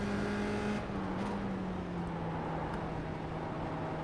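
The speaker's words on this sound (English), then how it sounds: "and then you smash the power and the car will go out" Race car engine in a sim racing game, roaring steadily with a sustained rising tone as the car powers out of a corner, loud and continuous with no talk over it.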